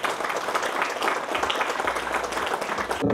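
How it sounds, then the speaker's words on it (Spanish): Vigorous applause from an audience at a community project event in San Antonio de la Cruz, Chalatenango, El Salvador, dense and continuous clapping at close range for about three seconds before cutting off. "Fuerte el aplauso."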